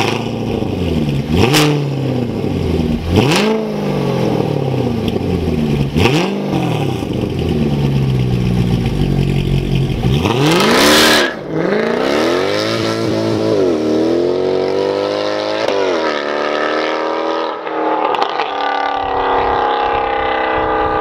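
A Mercedes-Benz CLK63 AMG with a 6.2-liter V8 revs hard several times, then accelerates past in a loud, close flyby, its engine note sweeping and fading into the distance.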